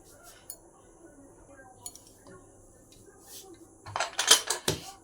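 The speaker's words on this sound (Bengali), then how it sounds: "ঢাকনা বন্ধ করে" A metal pressure cooker lid holding dal is closed with a few clanks and clinks near the end, after a quiet stretch with scattered small kitchen sounds.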